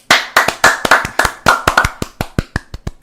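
Close, sharp hand claps in an irregular run of about fifteen strikes, each crisp and loud against near silence.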